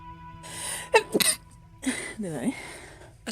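Two people in a room sneeze one after another during French-language gameplay of The Witcher, each burst sharp and close, with a short gasp and throat sounds around them.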